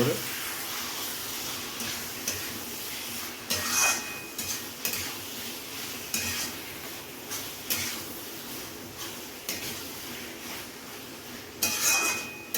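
Chicken skin stir-fried with chicken masala and spices in oil in a pan, with a steady low sizzle and repeated clinks and scrapes of a utensil against the pan, while a voice talks over it.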